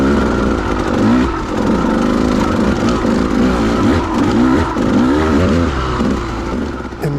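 A KTM motorcycle rides a trail at Clough State Park, its engine revving and wavering steadily as it rises and falls with the throttle, loud and close throughout with no talk.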